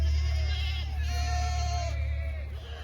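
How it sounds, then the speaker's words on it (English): Boer goats bleat on a Missouri farm during a winter storm, one drawn-out wavering call rising and falling over a steady low rumble of wind or machinery. "Oh, goats."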